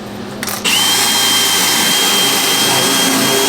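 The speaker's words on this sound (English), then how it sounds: "Then I take this countersink bit we have." A power drill fitted with a countersink bit spins up sharply and runs at a loud, steady whine while boring into a wooden van bed frame in a 1995 4x4 7.3 Econoline conversion, close and continuous.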